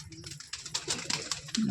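Pigeons at a rooftop loft where racing and high-flying birds are kept give soft, low cooing calls amid outdoor background noise, with a louder, closer coo at the end.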